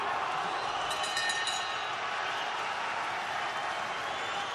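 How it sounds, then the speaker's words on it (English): Boxing arena crowd at a Viktor Postol fight roaring and cheering steadily after a big punch in the 10th round, a dense continuous wash of voices with scattered applause. "This crowd has come to life, and that's an understatement."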